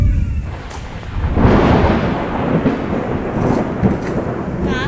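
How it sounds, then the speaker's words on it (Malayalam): Heavy rain pouring near a forest home with rolling thunder, a low continuous rumble under dense hiss that swells after the first second and stays loud throughout, no voices. "ഇപ്പൊ ഭയങ്കര മഴ"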